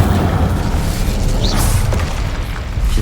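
Fire spell blast from Hogwarts Legacy on Xbox Series X: a loud, dense roaring burst sustained for about three seconds, with crackling, whooshing texture and no voice over it.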